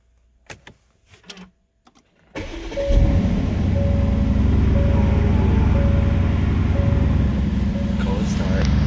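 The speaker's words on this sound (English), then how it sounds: "Pretty nice cold start." A 2020 Aston Martin cold start: a few cabin clicks and thumps, then the engine cranks and catches into a loud, steady, high idle that holds to the end.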